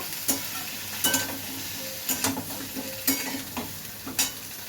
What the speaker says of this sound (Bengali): এবার ঝিঙেটাও দিয়ে দেবো ভালো করে নাড়িয়ে নেব